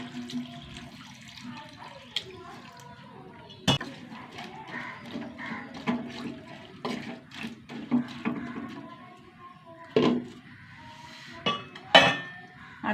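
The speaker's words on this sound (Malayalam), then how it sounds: "വെള്ളം ഒഴിച്ച് കൊടുക്കുക." Water pours into a cooking pot already holding chili powder, turmeric and salt, a soft splashing wash broken by a few sharp metallic clinks of utensils against the pot.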